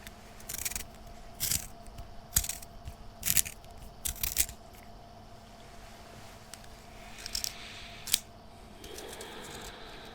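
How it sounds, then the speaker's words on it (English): A pencil being sharpened by hand, heard close and quiet as a series of short, raspy scraping bursts with pauses between them over a low steady hum. "though I do find sharpening pencils quite entertaining."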